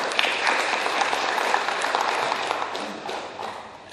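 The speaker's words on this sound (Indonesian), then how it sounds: "Tepuk tangan dulu buat gerakan koperasi." Steady applause from a crowd at a cooperative movement event in Jakarta, dense clapping sustained throughout with no talk over it.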